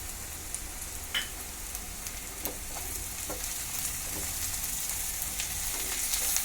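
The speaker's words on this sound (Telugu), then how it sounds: "ఇది అల్లం వెల్లుల్లి పేస్ట్ వేద్దామండి" Ginger garlic paste frying with browned onions in a pan for an amaranth leaf and liver curry, a steady close sizzle and crackle with a few sharp pops and stirring sounds, no voices.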